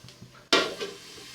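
A sudden burst of sizzling as pepper hits a hot pan, then a softer crackle with a faint clink of a utensil.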